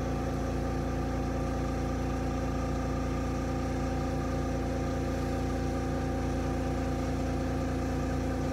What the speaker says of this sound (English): it's a skiving machine that takes that edge off there